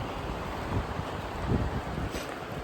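Wind blowing across a walking trail in Finland, a steady broadband rush with gusts swelling around the middle and near the end, buffeting the microphone with no voices.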